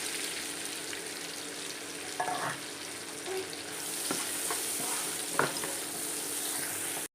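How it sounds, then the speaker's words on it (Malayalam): Sliced onion frying in hot oil and ghee with two pieces of cinnamon gives a steady close sizzle throughout, with a few soft stirring clinks and no talking. "സവാള ചേർത്ത് കൊടുക്കാം."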